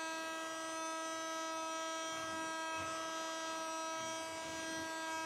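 A Mini Henry Hoover desk vacuum cleaner runs steadily with a thin, high electric motor whine and a constant tonal hum, unbroken and fairly quiet, with no talking.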